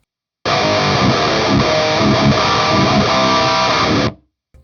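A distorted electric guitar chord from a Fender Tone Master Pro rings out loudly through a speaker cabinet in the room for a few seconds, then cuts off abruptly.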